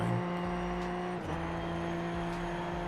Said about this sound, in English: I hear him a little bit on the throttle, not always going.